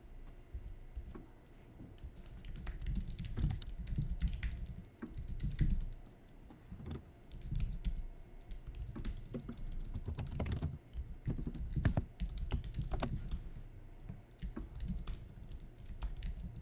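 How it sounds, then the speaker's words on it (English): Hard, heavy typing on a computer keyboard during a coding interview, with clustered loud clacks in bursts and short pauses, fairly close and continuous. "Man, why are you typing so hard?"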